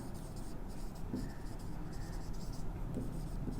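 Marker or chalk scratching across a board during a physics lesson, producing a few short strokes in quick succession over a steady background hiss, with faint speech in the room.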